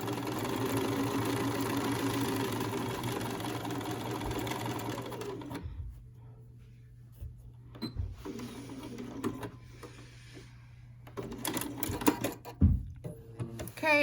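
Sewing machine back stitching a folded crown piece of a fabric surgeon's cap, a steady close motor whir for several seconds that stops abruptly, followed by quieter handling sounds and a few brief renewed bursts.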